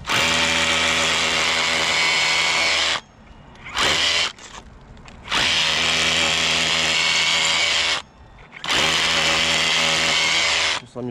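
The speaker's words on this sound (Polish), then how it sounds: "Spróbujemy wiertarką przewiercić otwory" Power drill boring a row of holes beside one another near a chimney, loud sustained whining bursts of several seconds each, separated by short pauses and brief restarts, close and alone.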